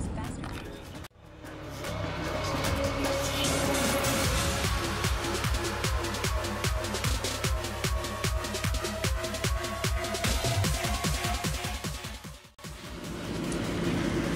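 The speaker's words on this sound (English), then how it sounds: "It is a lot of cars." Busy road traffic in Alabama heard from inside a moving car, a steady dense rumble of many cars with rhythmic tire thumps as people chat over it.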